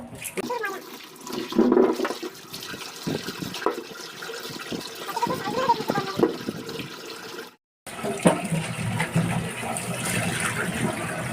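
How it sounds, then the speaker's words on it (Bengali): Taro roots are washed by hand in water, with close splashing and running-water sounds throughout, a brief pause midway, and some voice sounds in the background. "এই গাটি কচুগুলো এখন ধুয়ে নিই।"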